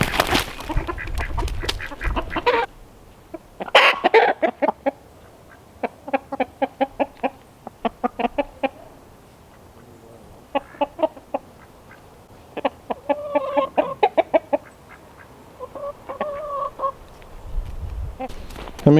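Chickens clucking in bursts of rapid, close calls as they are fed kitchen scraps from a bucket, with pauses between flurries and occasional brief talk.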